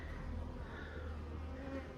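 A steady, dense buzz of many honey bees, mostly nurse bees on a comb, close and continuous with a low droning hum, no voices.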